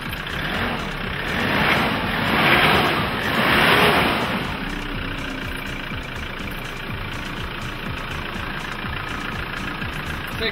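A 90-horsepower Hyundai 2008 engine idling nearby, a steady low rumble that holds throughout with a louder hissy stretch in the first few seconds.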